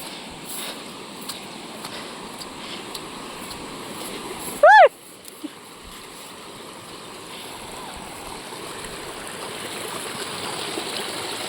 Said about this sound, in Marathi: इथे एक छोटासा धबधबा आहे, जो की आता बघूया जरा.